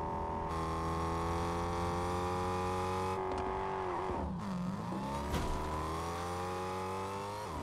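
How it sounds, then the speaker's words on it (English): A car in the Fortnite video game drives past with a steady, droning engine hum. The pitch dips and swoops midway as it goes by, with no talk over it. "I think that car that just drove past us is going to be going here"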